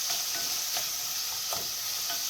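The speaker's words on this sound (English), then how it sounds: "Now I'm going to fry my onions" Onions frying in a pan for a Sicilian peas and pasta dish give off a steady, close sizzling hiss, with a few soft stirring scrapes now and then.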